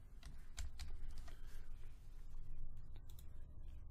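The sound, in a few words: typing on a computer keyboard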